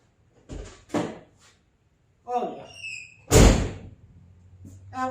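On a BMW 325, the driver door is tested with a couple of quick latch clicks and thunks, some handling rattle, then one loud solid slam near the end, all close by with people talking around it.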